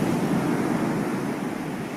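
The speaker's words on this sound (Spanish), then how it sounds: "contemplando las olas que van" Ocean waves wash onto a sandy beach with a steady, rushing roar of surf and a wind-like hiss, moderately loud and continuous, with no voices over it.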